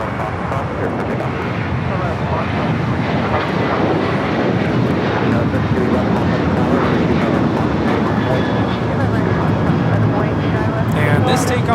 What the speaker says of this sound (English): this takeoff is American Airlines 2608 off to Austin, Texas. The 737-800.